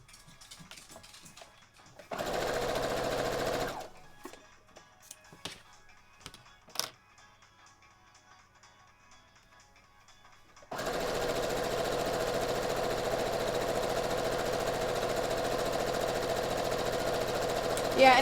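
A sewing machine joins quilt strips for a White Mage quilt in two runs: a short burst, then a quieter gap with a few clicks, then a long steady stretch of rapid needle chatter up close.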